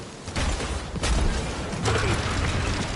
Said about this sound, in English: Drax, think you can drag this cannon out?